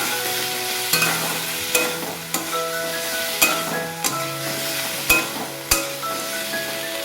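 Egg and potol curry with tomato and chilli frying in a pan, a constant soft sizzle broken by regular sharp scrapes and clinks of a spatula stirring against the metal, roughly once a second.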